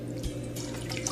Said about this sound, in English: I'm just going to pour it into my poaching pan.